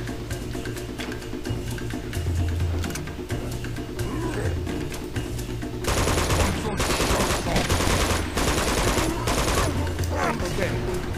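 Turret gunfire in the video game Uncharted 2 rattles in dense rapid bursts, with a louder, fuller stretch of continuous firing in the second half and a steady game soundscape underneath.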